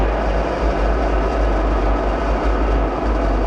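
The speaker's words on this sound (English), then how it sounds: "Ignition. And liftoff." Falcon 9 rocket engines roar at liftoff, a dense, loud, unbroken rumble with deep low-end crackle that holds steady throughout.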